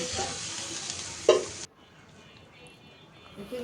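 Beef curry fries in a pan while being stirred, giving a steady broadband sizzle with one sharp clatter near the end before it cuts off abruptly into quiet.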